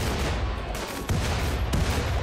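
Grenades go off during caribou hunting in RimWorld: a dense, noisy rumble of blasts with a couple of sharp cracks standing out, loud and continuous throughout.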